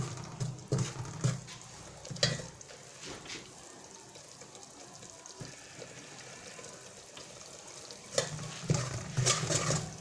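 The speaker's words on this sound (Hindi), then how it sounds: "अब ये फ्राई होना शुरू हुआ है" A halwa mixture fries in a pan and is stirred, with a soft steady sizzle broken by bursts of scraping and stirring near the start and end.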